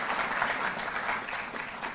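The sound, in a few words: loud applause welcoming the athletes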